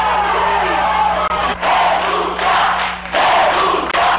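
A crowd of protesters booing and shouting at a university rector, sustained loud jeering in waves, close and dense, with brief dips between surges.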